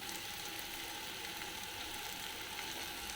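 Chopped onion and tomato cook in oil in a home kitchen pan, giving a steady, even sizzle that stays at a constant low level with no talking.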